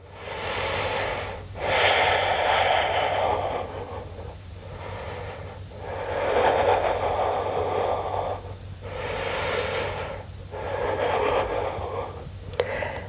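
Slow, deep breaths are taken while holding a plank pose in a beginner yoga strength session, with long audible inhales and exhales alternating evenly, close and breathy with no talking.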